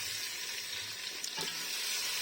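Peas dropped into a chicken curry base frying with onion, tomato and yogurt give a continuous soft sizzle. A faint clink of stirring comes partway through, and no voice is heard.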